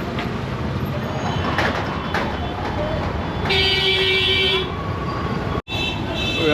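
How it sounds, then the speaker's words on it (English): Busy Delhi street traffic heard from inside stuck vehicles, a constant loud engine rumble with a long sustained horn blast in the middle and a sudden brief cutout near the end. "We are stuck in the middle of the traffic, and that's so noisy."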